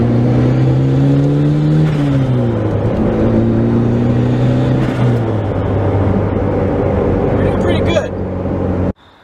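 A turbocharged Honda Prelude drives along, its engine droning loudly from inside the cabin and stepping through shifts with rising and dropping pitch, then cutting off abruptly near the end.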